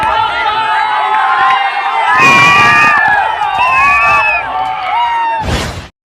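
A packed crowd of fans at the Deepprabha cinema hall for KGF Chapter 2 cheers, whistles and shouts loudly, with excited voices rising in bursts before cutting off abruptly.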